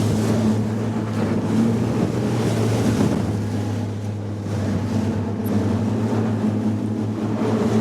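A Halma HR 30 RIB runs at speed on open sea, its engine holding a loud, steady drone under continuous rushing water and wind noise.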